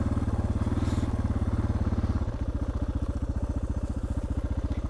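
A Suzuki DR650 motorcycle rolls downhill through mud, its single-cylinder engine thumping in a steady low, even rhythm close to the microphone, with a slight shift in pitch midway.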